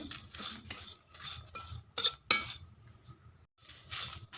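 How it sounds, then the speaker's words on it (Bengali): Whole spices (bay leaf, two dried chillies, cumin and coriander seeds) dry-roasting in a pan sound as intermittent metallic scrapes and clinks of a utensil stirring, fairly close and quiet, with short pauses between strokes. "শুকনো কলায় গোটা মশলা ভেজে নেব"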